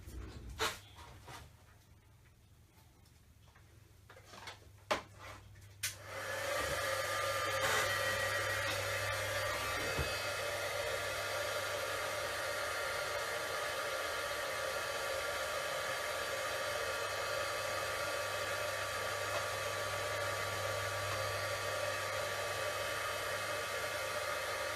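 A heat embossing tool blows hot air over cardstock from across the room. A few scattered clicks and taps come first, then a steady, faint whooshing hum that runs unbroken for about twenty seconds.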